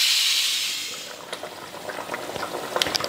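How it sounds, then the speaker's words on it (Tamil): Fish curry in a covered pot simmers with soft bubbling and popping, a steady hiss at first fading into irregular small bursts of bubbles close by. "இப்போ குழம்பு மூடி வச்சு ஒரு 10 நிமிஷத்துக்கு வேக விட்டுறலாம்."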